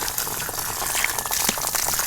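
Water gushes steadily from a tap, first hot and then cold, a close, continuous splashing rush with no break.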